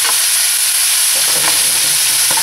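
Minced pork and beef sizzle hard in hot oil in a pan, a loud steady frying hiss with occasional stirring scrapes, close and alone.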